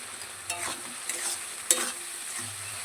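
Spice masala of turmeric, ground coriander and a fried, ground paste being stir-fried in a pan: a low, steady sizzle broken by a few sharp scraping strokes of a spatula, close and fairly quiet.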